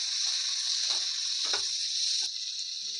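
Onion stalks hit hot oil with a steady, close hiss of frying that holds evenly throughout, with faint scattered pops and light clatter underneath.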